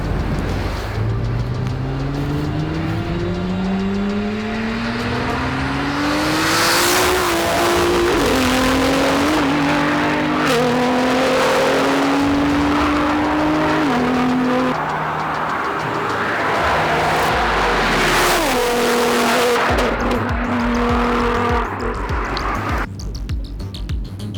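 A tuned Nissan GT-R making 925 bhp accelerates hard past the microphone, its engine note climbing through several gears and swelling loud as it passes, then fading away, with an insect-like buzz in the background and no talk.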